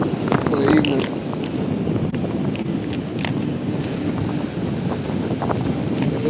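Gusty wind buffets the microphone on a fishing pier, a constant rough rumble with someone talking over it throughout.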